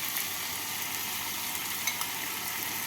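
Fried lentils, potato and cauliflower stirred with spices in a hot pan, giving a steady, close, even sizzle with faint scrapes of the spoon running throughout.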